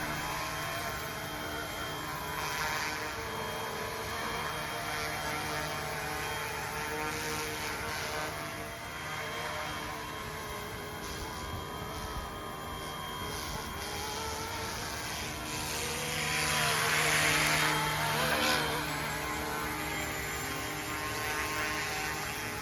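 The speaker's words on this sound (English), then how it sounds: "just a very pleasant flying RC model helicopter" A Yu Xiang F07 UH-1 Huey ready-to-fly RC model helicopter flies with a steady high-pitched rotor and motor whine, holding level throughout and swelling briefly louder as it passes closer, with no talking.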